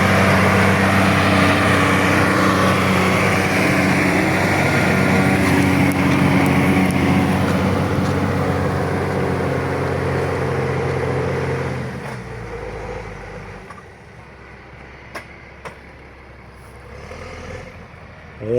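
A tractor engine drones steadily and loudly while driving through irrigation ditches, then fades to a quieter rumble after about twelve seconds, with a few faint knocks near the end.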